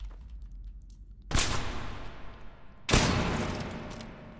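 A sawn-off shotgun fires in a Fallout 4 mod, two loud, sharp blasts a second and a half apart, each trailing off in a long rumbling decay.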